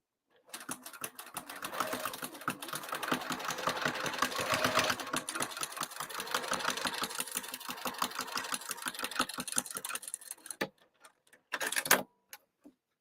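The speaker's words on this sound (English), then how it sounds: "I'm stitching in the direction of the pocket." A sewing machine top stitches the lining of a cross body bag, running in a fast, steady mechanical rattle for about ten seconds, then stopping briefly before a short final burst.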